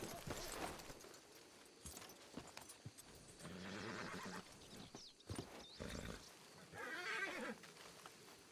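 Horses in the Red Dead-based roleplay game WildRP whinny and snort while hooves clip-clop intermittently, in bursts of fairly low-level sound with gaps between them.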